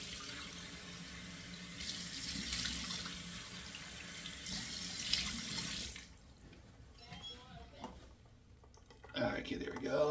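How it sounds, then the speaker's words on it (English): Cold water runs from a sink tap in a steady hiss for several seconds, then shuts off, leaving faint clatter and a brief splash near the end; someone talks over the flow. "Turning on the cold water in the sink so let that flow out cold here for a second."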